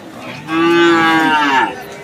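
A cow at a cattle market gives one long, loud moo of just over a second, close by against faint background noise.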